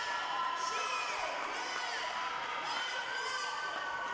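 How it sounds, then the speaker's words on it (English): Crowd of teammates and spectators cheering at a packed indoor girls' swim meet, Eagan against Rosemount at Eagan Middle School: a steady wash of shouts and whoops, echoing and continuous, with a voice talking over it. "A lot of cheering from the Eagan Wildcats players and teams here for Ruby"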